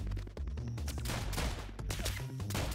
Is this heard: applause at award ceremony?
no